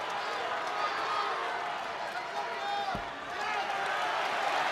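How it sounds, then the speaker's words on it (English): Crowd roaring at a college wrestling match in an arena, a steady loud wash of cheering voices filling the whole stretch, with a commentator talking over it. "This crowd comes to life with 10 seconds."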